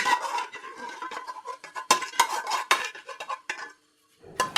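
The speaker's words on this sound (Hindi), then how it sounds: "बर्तन अच्छी तरह से खाली कर दिया है।" Metal pots, dishes and utensils clatter in a home kitchen as a cooking pot is emptied: a run of sharp, close scrapes and clanks with a short pause before a final burst of clinking.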